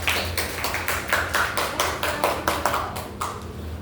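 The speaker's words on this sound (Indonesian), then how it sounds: "Mari kita berikan aplaus kepada kelompok 1" Applause for the first student group in a classroom, a steady run of overlapping hand claps lasting several seconds with a slightly pulsing rhythm, fairly close and moderately loud.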